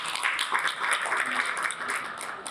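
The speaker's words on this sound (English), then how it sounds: "Can we have a round of applause for him?" A conference audience breaks into continuous applause, a dense wash of many hands clapping at once that holds steady throughout and sounds moderately close.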